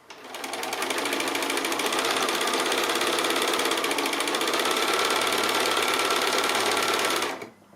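Sewing machine running steadily while chain piecing quilt blocks, a close, continuous whirring stitch that holds for about seven seconds before stopping abruptly, with no talking.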